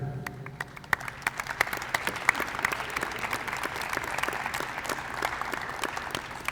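Applause from a breakfast gathering for student government members standing to be recognized, steady crowd clapping with sharp individual claps standing out, sustained at moderate level throughout.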